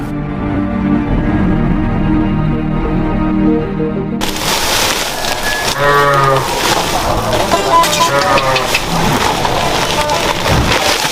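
Young cattle being fattened on a farm give a drawn-out, low moo at the start, followed by dense, noisy patter and rustling with fainter lowing mixed in.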